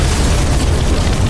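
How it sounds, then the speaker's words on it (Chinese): Bomb explosions in a London gangster TV drama, heard as a dense, loud, continuous roar of blasts and rumble filling the whole moment. "爆炸声此起彼伏"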